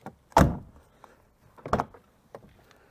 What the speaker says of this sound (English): Door closes just fine.